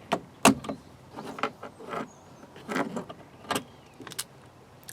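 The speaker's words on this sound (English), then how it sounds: "first thing we're gonna do today is remove this handle" Removing the door handle from a bus during a build: a string of short clicks, clunks and scraping rattles of metal parts being worked loose, close up and irregular, with no talk.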